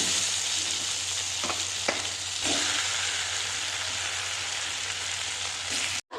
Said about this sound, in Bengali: মশলার সাথে আলু খুব ভালো করে কষিয়ে নিয়েছি।